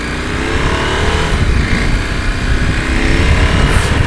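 Husqvarna Norden 901 adventure motorcycle riding over a rough, bumpy road, its engine droning steadily and loud throughout, with wind rush and a rumbling low end.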